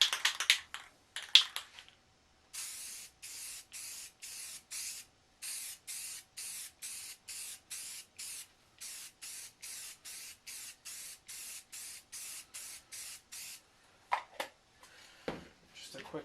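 A spray can lays white paint over a vinyl spray mask decal in a long series of short, even hissing bursts with brief pauses between them. A few faint rustles and handling sounds come before and after.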